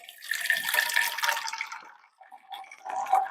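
Cooking water is poured off boiled lentils (dal) while making festive obbattu, a splashing stream of water that runs for about two seconds, pauses briefly, then trickles again, heard close and alone.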